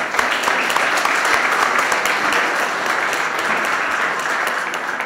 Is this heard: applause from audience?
yes